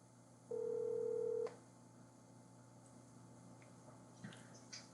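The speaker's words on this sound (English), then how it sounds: "that phone's demonized" Telephone dial or keypad tone: a single steady electronic beep lasting about a second, clear over a quiet background hum, followed by faint small clicks.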